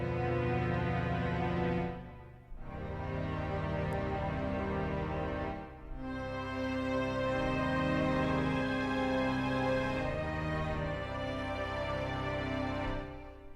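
Lush synthesized strings from an "Amethyst Strings" plugin play sustained chords with no other sounds, swelling and dipping briefly twice before holding steady and full to the end.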